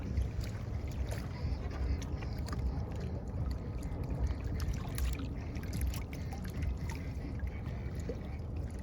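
A stingray slipping from hand back into shallow water, with steady splashing and sloshing close by that runs evenly through the whole stretch with no talk.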